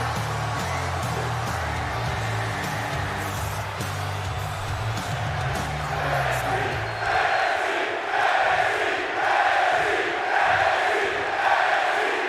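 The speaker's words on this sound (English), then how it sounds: "This crowd definitely fired up tonight." A fired-up wrestling arena crowd roars and cheers at an XFW Digital Wrestling show, with a steady loud wash of voices; a low musical hum fills the first half before the noise opens into brighter shouting.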